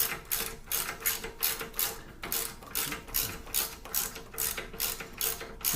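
A bicycle bottom bracket is snugged up during an e-bike build on a Marin frame, giving a steady run of rhythmic clicking ratchet strokes, close and fairly quiet, with no talk.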